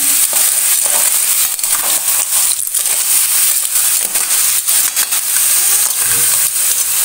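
Fresh clams fry with masala in a pan, giving a loud, continuous sizzle and hiss with scraping stir noises running throughout, close up.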